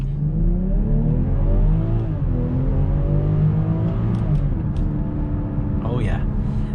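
A 2022 BMW X5 SUV launched hard in sport mode with brake boosting, its engine rumbling loudly and rising steadily in pitch through the gears from inside the cabin, with a person talking over it.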